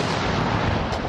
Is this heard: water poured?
no